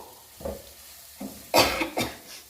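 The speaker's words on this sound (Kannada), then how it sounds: "ಈಗ ಈರುಳ್ಳಿ ಫ್ರೈ ಆಗಲಿ ಈರುಳ್ಳಿ ಫ್ರೈ ಆಗೋವರೆಗೂ ಫ್ರೈ ಮಾಡ್ಕೊಳ್ಳೋಣ" Chopped onions frying in a pan for a sprouted green gram stir-fry, with short bursts of spatula stirring and sizzling near the mic, the loudest scrapes coming in quick succession toward the end.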